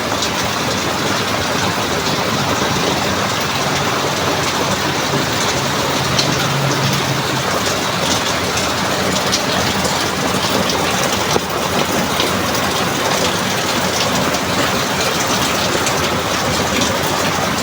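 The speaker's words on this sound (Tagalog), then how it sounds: "Lakas ng ulan." Heavy rain pours down in a steady, dense roar that holds unbroken throughout, loud and close with no voices over it.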